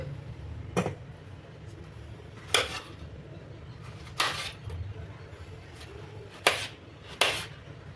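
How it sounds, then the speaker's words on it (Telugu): A knife cuts peeled raw plantain into small pieces, landing in about five separate sharp taps on a board at uneven intervals, close but quiet against a faint background hum. "ఇప్పుడు వీటిని ముక్కలుగా కట్ చేసుకుందాం"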